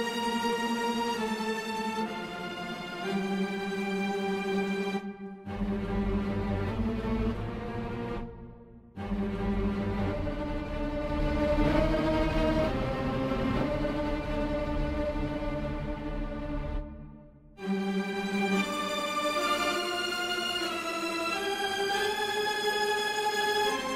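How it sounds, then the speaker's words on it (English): A Cinesamples Vivaldi Tremolo orchestral string patch plays a sustained, shimmering tremolo across several chord changes. Short gaps fall between the phrases, the strings are moderately quiet, and no one talks. "Another patch I really like is the Vivaldi Tremolo"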